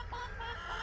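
A rooster clucks and grumbles in a short, low burst from a backyard chicken flock in cold, windy weather, fairly close and alone with no talking.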